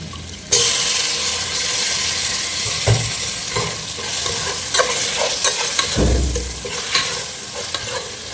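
Beef and fat for biryani hit a hot pot with a sudden loud sizzle that continues steadily, punctuated by stirring knocks and a deep bubbling surge later on.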